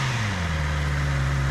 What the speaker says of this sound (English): once your bike's up to temp, give it a couple revs so they know what that sounds like too